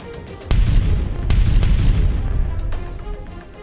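Missiles exploding in a video game: a sudden deep boom followed by rolling rumbles and further blasts, loud and heavy in the low end, with no talk.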